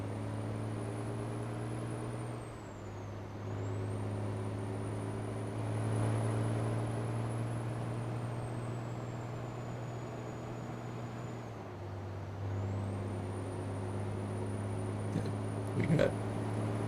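A stretched, slightly lowered International 9900 truck in American Truck Simulator: a low engine drone dips and rises again as gears shift, with someone talking over it throughout.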